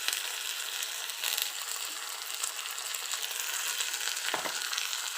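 Green chillies with mustard seeds frying and being stirred in a pan over low gas, a steady close sizzle and crackle filling the whole stretch, with a brief scrape of the spoon near the end.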